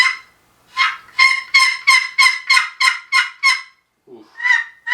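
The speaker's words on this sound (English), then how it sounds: "This is the Quaker Boy box call." A Quaker Boy wooden box call for turkeys sounds a quick run of about nine loud, raspy yelps in even rhythm, then a short pause and a few more yelps, up close and with no talking.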